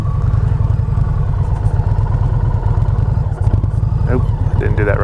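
A 2020 Indian Challenger motorcycle engine runs with a deep, throbbing low-end pulse held at steady revs up close, with brief voices near the end.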